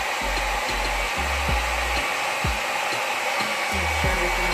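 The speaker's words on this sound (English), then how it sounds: "I'm just gonna blow dry it." A hair dryer blows hair extensions dry while a slick high ponytail is being installed. The whoosh is loud, close and continuous, with low thumps as the airflow shifts. No one speaks.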